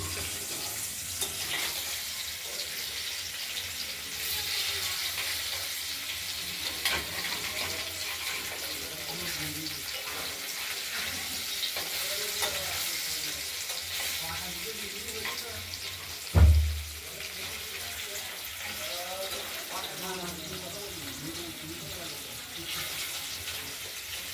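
Paneer pieces fry in a pan with a steady, moderate sizzle and hiss running throughout, faint voice-like murmurs underneath and one brief low thump near the end.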